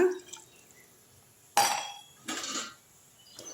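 Water goes into a pressure cooker for vegetable dum biryani in a few short splashing bursts, each about half a second, with a faint clink of a metal tumbler between pours and no talking.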